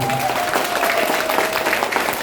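Dense, steady clapping from a crowd at a company event with a few cheers mixed in, sustained and fairly loud throughout.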